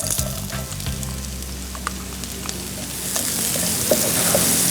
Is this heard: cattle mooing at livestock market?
no